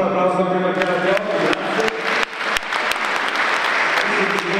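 An audience breaks into applause at an Italian cycling awards ceremony, the Giro d'Onore, with sharp hand claps rising under and after a voice on a loudspeaker, loud and close.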